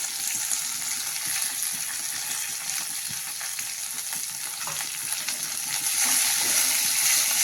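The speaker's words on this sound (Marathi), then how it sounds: "आपण त्यामध्ये टाकणार आहोत आता पुदिना हे परतून घ्यायचं चांगलं" Mint leaves sauté in a pan for mint chutney, a steady loud sizzle and crackle with light stirring that grows a little stronger toward the end, no voices.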